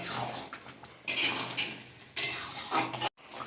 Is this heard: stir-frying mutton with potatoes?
yes